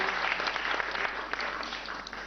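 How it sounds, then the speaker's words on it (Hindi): Dense, steady applause from a sizable audience at a quiz show fills the whole stretch, loud and continuous with scattered sharper claps. "तालियां जोरों से बजाइए जानकारी के लिए।"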